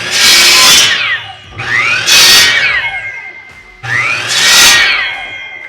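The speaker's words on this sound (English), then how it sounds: "Now I'm going to head over to our miter station, cut everything down to 4 inches long." A miter saw cuts wood pieces down to four-inch lengths in three loud passes, each whining up to speed, biting through with a rising screech, then spinning down, and no one talks.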